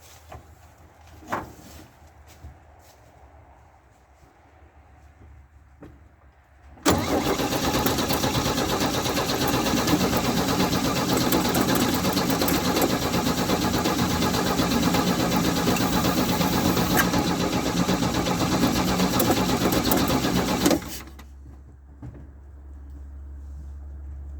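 After a few quiet clicks and handling noises, an engine catches and runs loudly and steadily for about fourteen seconds, then cuts out, leaving a low hum.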